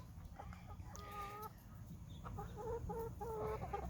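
Baby Cornish chickens in a coop cluck and chirp while pecking at chick crumbles, short soft calls in small clusters over a steady low background hum.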